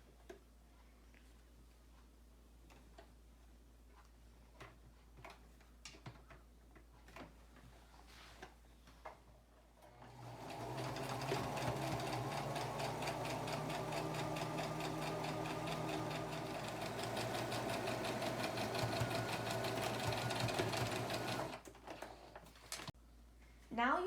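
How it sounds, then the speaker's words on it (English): A sewing machine with an edge foot stitches straight down a pressed seam crease on face mask cloth, running steadily for about eleven seconds after a few quiet taps, then stopping. "you'll use the edged foot and you'll sew directly down the crease"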